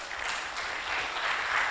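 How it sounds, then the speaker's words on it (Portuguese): Audience applause at an academic conference on international and constitutional jurisprudence, a steady broad patter of clapping that holds even and moderately loud for a short stretch, with no voices over it. "Uma salva de palmas, por favor."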